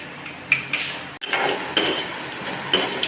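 Mustard seeds dropped into hot mustard oil in a pan while making mango pickle, with a sharp clatter and then a soft, steady crackle and sizzle, close by and with no talking.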